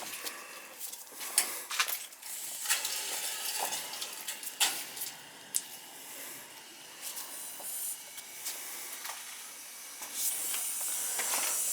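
Air purging from the heating zones of a gas boiler gives repeated hissing spurts and sputters of air and steam, steady and close, with no talk.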